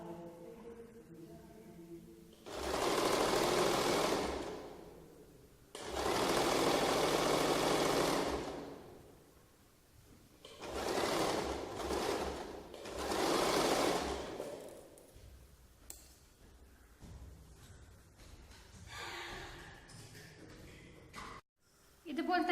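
Sewing machine stitching the back side of a lined churidar top, running in four long bursts of steady whirring, close and fairly loud, with quieter gaps where fabric is handled.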